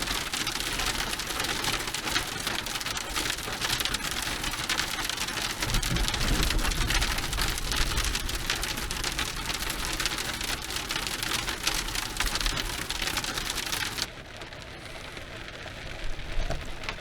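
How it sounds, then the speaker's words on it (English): Pea-sized hail hammers down during a rare autumn mountaintop storm with wind and rain, a dense, loud, continuous clatter that drops suddenly to a softer patter near the end, with no voices. "Yeah, that's some pea-sized hail."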